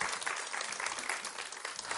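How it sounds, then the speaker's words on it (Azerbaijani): An audience at a televised cultural programme in Shamakhi applauds, a dense and even burst of many hands clapping with no break and no voices over it. "Alqışlarınızla."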